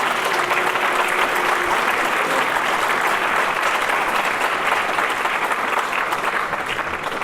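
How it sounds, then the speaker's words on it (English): Sustained, loud applause from a large audience at an athletic hall of fame induction ceremony, steady and even throughout, with a few cheers mixed into the dense clapping. "How about one more round of applause for all those inducted tonight?"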